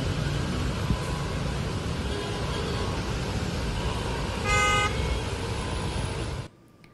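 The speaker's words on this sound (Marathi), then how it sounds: "कामावर जाणारे मुंबईकर वाहतूक कोंडीमध्ये अडकलेले दिसत आहेत." A car horn blares for about a second over the constant roar of engines and tyres on wet roads in a rain-caused morning traffic jam near Thane and Mumbai, before the sound cuts off abruptly.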